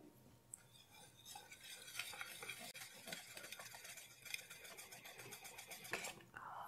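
Spoon scraping and clinking in a bowl while ground spices, black salt and red food colour are mixed for a chicken chargha marinade, quiet and close with irregular taps and a soft voice speaking.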